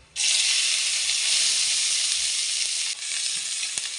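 Capsicum dropped into hot ghee with cinnamon, bursting into a loud, close, steady sizzle that holds throughout with a slight dip near the end.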